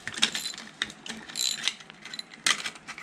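Ratchet wrench tightening a part on a 3/4 HP IHC air-cooled air compressor engine, rapid close clicking in short bursts, loud and continuous with no voices.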